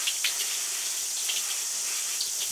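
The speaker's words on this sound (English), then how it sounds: "PJ, turn the hose upwards so you're getting underneath their chin." Garden hose spraying water over bucks (Arapawa goats) at an outdoor wash, a steady broadband hiss with faint splashing pulses, alone at moderate level.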